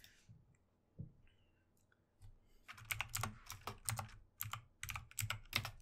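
Someone types a message on a computer keyboard, a quick irregular burst of crisp key clicks heard close up after a few quiet seconds, with no one talking.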